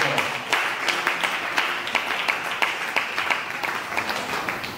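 A church congregation applauds in steady rhythmic unison, loud and roomy, with clap after clap sustained through the whole stretch and no talking.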